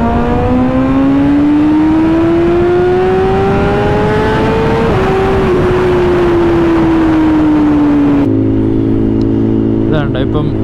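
A BMW S1000RR Pro inline-four motorcycle in third gear drones loudly and close, its engine pitch climbing steadily before easing off, with a voice talking over it.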